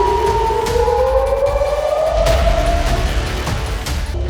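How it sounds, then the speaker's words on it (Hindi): A long, rising and falling air raid siren drones loudly across an open space at midnight during missile strikes in the Israel-Iran war, steady and wailing, with a couple of dull distant thuds underneath. "ये सायरन की आवाजें युद्ध की घोषणा कर रही है।"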